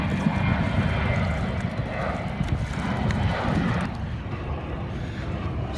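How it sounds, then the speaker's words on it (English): A jet airliner takes off from Fort Lauderdale International Airport and passes overhead, a steady, broad roaring rumble that carries on throughout and eases slightly near the end, heard from the Intracoastal waterway. "we have a jet taking off from Fort Lauderdale International Airport right now"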